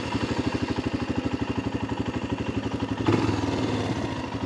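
A 2022 Royal Enfield Himalayan motorcycle engine runs steadily with a fast, even low thump, close and loud, shifting to a slightly rougher tone near the end; no voices.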